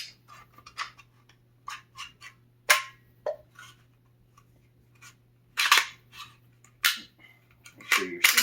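HK USP pistol slide sliding back onto its rails and locking into place, a string of close, sharp metallic clicks and scrapes in uneven bursts, with a few louder snaps near the end and a low steady hum underneath.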